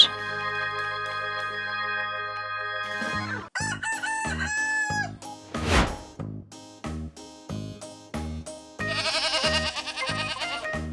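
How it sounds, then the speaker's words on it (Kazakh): A rooster crows nearby amid other farmyard calls, including a goat's bleat, with a burst of layered animal cries at the end. "Әтеш."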